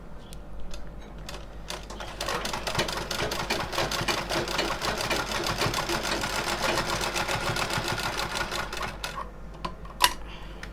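Sewing machine stitching folded fabric for a Laddu Gopal dress, a steady close whir running for most of ten seconds, then stopping with a few clicks.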